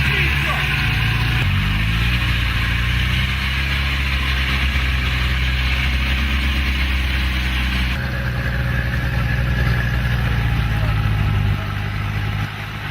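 Powerful Ural off-road trucks with large wheels running their engines steadily, a loud continuous low rumble and drone close by, unbroken throughout.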